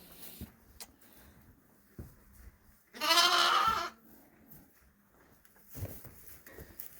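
One loud, close lamb bleat stands out amid quiet farm background, followed by a fainter second call near the end.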